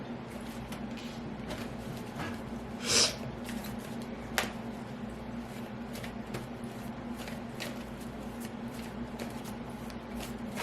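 Tarot cards drawn and shuffled from a deck, heard as soft, faint papery riffles and slides with a brief louder flick partway through, over a steady low room hum.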